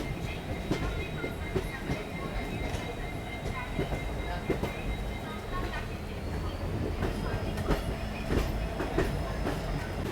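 The Bhubaneswar–Visakhapatnam Intercity Superfast Express running, heard from inside an ICF chair car: steady rumbling rail noise with repeated wheel clicks over the track joints, while people talk nearby.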